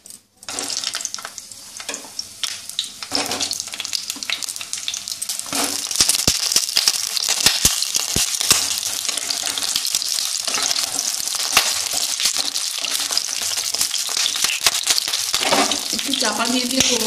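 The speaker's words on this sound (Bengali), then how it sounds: "তেলটা হয়ে এসছে, এবার আমি পটলগুলো দিয়ে দেব" Pointed gourd (potol) pieces fry in hot oil, a loud continuous sizzle that swells as they hit the pan and keeps crackling close by, with occasional stirring clatter and no talk.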